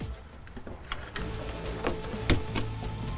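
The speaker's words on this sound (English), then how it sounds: "we can go ahead and slide the power supply in." A computer power supply slides into an Elite 120 Advanced PC case, giving scraping metal-on-metal rubs and a few sharp knocks, one louder clunk near the middle, close and fairly quiet.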